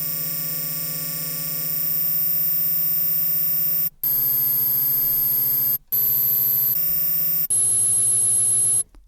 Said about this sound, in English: you can hear we're starting to get kind of a hiss, metallic sort of sound in there